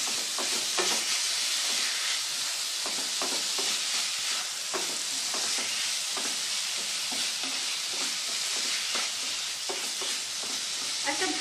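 Minced chicken frying with spices in a pan while being stirred: a continuous sizzle broken by repeated scraping strokes of a spatula against the pan, close and steady throughout.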